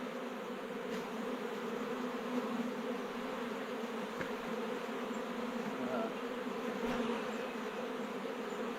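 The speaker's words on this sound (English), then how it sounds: "These bees here we can shake off." A steady, continuous hum of bees swarming from a colony that lived in a tree blown over during a storm. The buzzing is close and even throughout, with a few faint knocks and no talk.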